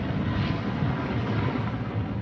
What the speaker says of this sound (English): A couple of helicopters operated by the Taliban, ferrying in people and supplies and taking the casualties out